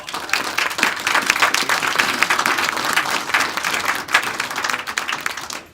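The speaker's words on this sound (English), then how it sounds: "why don't we give our panel a nice round of applause?" Audience applause for a panel at the close of a speaker-series event on disruptive technologies, a steady dense clapping from a room full of people that holds loud and continuous throughout.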